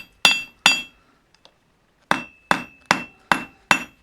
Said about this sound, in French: je vais venir sur cette extrémité de l'enclume et frapper pour écraser